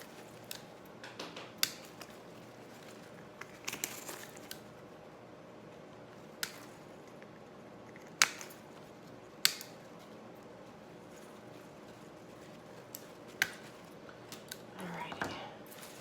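Scissors snip apart artificial floral picks for a fall hearth lantern centerpiece, with a few sharp, isolated cuts spread out over quiet rustling, close and fairly soft.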